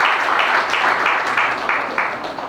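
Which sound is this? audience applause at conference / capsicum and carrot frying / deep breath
audience applause at conference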